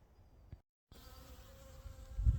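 Bees buzz faintly around inside a greenhouse on a market garden in early February, a thin steady hum with a short silent gap partway through and some soft handling noise near the end.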